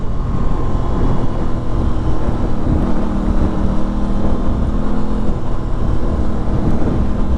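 An Aprilia RS660 parallel-twin motorcycle engine runs with no exhaust fitted, giving a steady, raw mechanical drone with a low throbbing hum that holds evenly throughout, with no talking.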